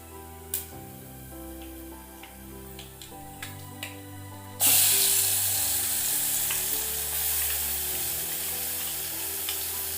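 Mustard seeds, cumin, dried red chillies and ginger-garlic paste fry in hot oil, with scattered popping and scraping at first, then a loud, steady sizzle surging up as the paste hits the oil and continuing close and alone.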